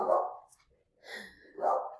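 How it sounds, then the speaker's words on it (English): A pet dog barking nearby during an online algebra lesson, two or three loud, close woofs separated by a short pause, with no speech over them. "Sorry, my dog."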